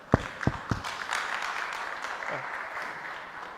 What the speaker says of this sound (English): let us give the presenter a clap